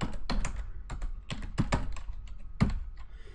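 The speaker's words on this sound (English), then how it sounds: "I'm going to type in if, reference my object." Typing code on a computer keyboard, a quick run of close, crisp key clicks in uneven bursts with short pauses, no voices.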